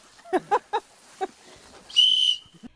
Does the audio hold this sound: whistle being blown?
yes